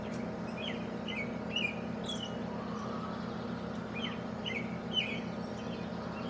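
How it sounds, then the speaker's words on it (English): Small birds chirp outdoors with short, scattered tweets at a moderate distance, heard over a steady low background hum. "there's all the birds outside"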